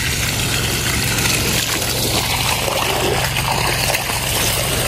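Water pumped in to flood a vegetable plot of tomatoes and string beans, a steady, dense gushing rush with an even pump hum beneath it, loud and continuous throughout.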